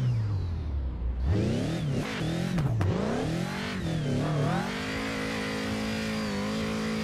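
A race car engine revs hard and wavers in pitch while the car drifts on a randomly generated track in a driving video game, loud and continuous, with brief tire squeal.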